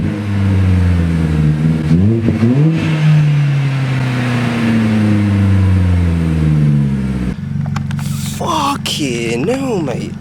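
Vauxhall Corsa fitted with a straight pipe exhaust, revving in rising and falling sweeps over a steady loud idle drone, close by, with voices talking over it.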